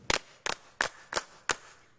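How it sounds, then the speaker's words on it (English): Five sharp gunshots ring out at a steady pace, each a crisp crack with a short tail, fairly close and with no voices. "I hear gunfire near and far."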